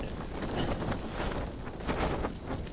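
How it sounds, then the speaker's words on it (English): Strong wind buffets the microphone in steady, roaring gusts on a winter mountainside in the Scottish Highlands, a loud broadband rush with no one talking. "probably not as windy as this when the wind gets up here"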